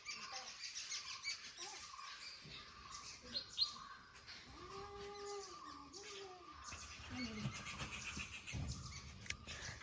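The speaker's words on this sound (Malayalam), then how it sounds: "നല്ല രസമുള്ള കിളികൾ സൗണ്ടൊക്കെ ഉണ്ട് കേട്ടോ" Birds chirp outdoors in the evening around a village anganwadi, a scattering of short calls and tweets at mid distance over a quiet ambient background, with no speech.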